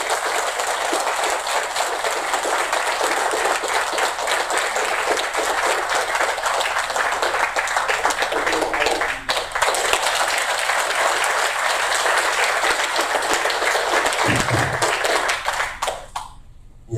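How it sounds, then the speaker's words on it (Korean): Audience applause greets a speaker at a lecture event in LA, a long loud continuous wash of many hands clapping that holds steady, dips briefly midway, then trails off at the end. "여러분 큰 박수로 맞아주세요."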